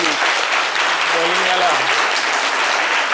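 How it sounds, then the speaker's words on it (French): A crowd applauds for Maman Kwassio on a live talk show, continuous dense clapping throughout, with a voice briefly calling out beneath it. "Applaudissez pour maman Quadio."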